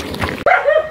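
A pet dog gives a single sharp, loud bark close by, ringing briefly after a short stretch of muffled background noise.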